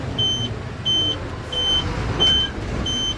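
A lorry pulls away on the start of a long-haul run, its low engine rumble steady underneath while a high electronic beep repeats five times at an even, unhurried pace, fairly close and clear.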